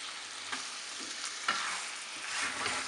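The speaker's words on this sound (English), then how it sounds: "Mix with the mutton and then fry for 4-5 minutes." Mutton sprinkled with turmeric powder being stirred and fried in a pan for a mustard mutton curry, a steady close sizzle with occasional scraping stir strokes throughout, no talking.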